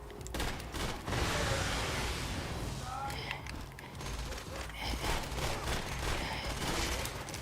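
Rapid heavy-recoil gunfire in a first-person shooter video game, dense fusillade of loud bursts with brief pauses, close and sustained, with someone talking faintly over it.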